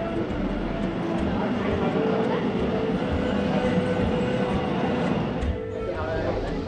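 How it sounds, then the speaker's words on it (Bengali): An underground metro train at India's first underwater metro line rumbles into the platform, a steady low roar with rail rattle and a soft squeal, while someone talks nearby. "গাড়ি ঢুকছে এখন, কিন্তু এই যে মেট্রো এখানে ঢুকলো"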